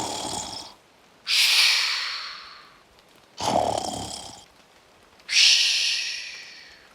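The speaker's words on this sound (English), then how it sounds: "The wolf lay there snoring deeply." Deep, slow snoring from a wolf in a story sound effect: three long breathy snores with rasping intakes and fading exhales, evenly spaced and close, with no talk.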